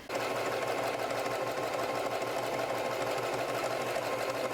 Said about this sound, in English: I'm just making sure I line up the pattern and pinning it in place first before sewing this together